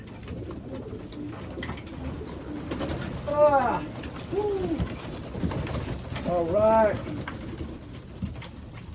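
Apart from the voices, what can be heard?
racing pigeons cooing at the loft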